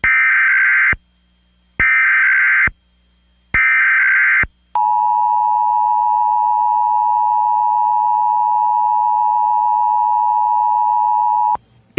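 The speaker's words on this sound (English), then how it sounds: "This is a test of the emergency alert system." Emergency Alert System test signal: three loud, evenly spaced two-tone attention bursts, then a long continuous steady tone that cuts off abruptly near the end, with no voice over it.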